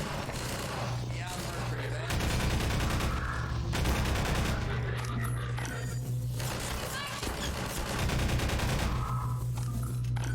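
Dense, continuous gunfire from Half-Life 2 combat, with repeated bursts and heavy low rumble running throughout, loud and close, with game sounds layered over it.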